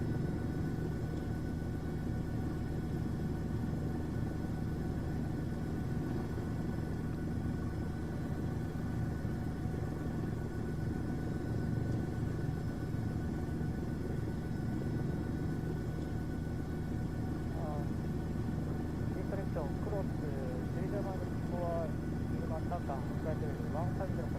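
An Airbus H125 helicopter engine in Microsoft Flight Simulator runs as a constant low rumbling drone with steady turbine tones throughout, a voice talking over it.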